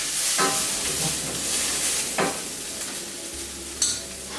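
Onion and garlic softening in a hot pan for a root vegetable and smoked paprika stroganoff, a continuous sizzle with a few sharp scrapes and clinks of the spoon.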